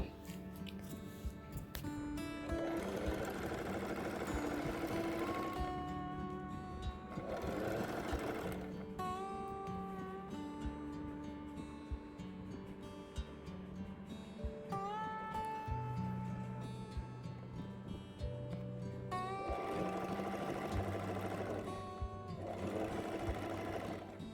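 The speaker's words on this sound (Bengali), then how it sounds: "এখন এই যে পিকো করবো, মেশিন সেট করেছি পিকো করার জন্য" A sewing machine sets a picot edge along cut dupattas, running in long steady whirring bursts with brief pauses between passes, close and loud throughout with no talking.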